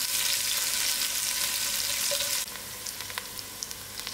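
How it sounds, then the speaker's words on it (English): Onions fry in a heated pot with a steady, dense sizzle that fills the first half and then drops to a quieter crackle with scattered pops, and no one speaks. "I'm going to add in my onions first and allow it to fry till it's gone to a"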